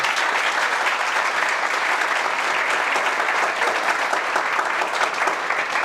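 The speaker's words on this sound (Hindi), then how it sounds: "तो एक बार जोरदार ताली लॉ के लिए" Dense, sustained applause from a large audience honoring an Indian Army TES entry candidate ranked fifth nationwide, an even wash of many clapping hands with no voices standing out.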